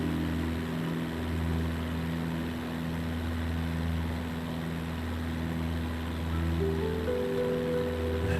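Steady drone of a propeller airplane engine heard from inside during flight, a continuous hum with low tonal lines and broad rushing noise, with no talk.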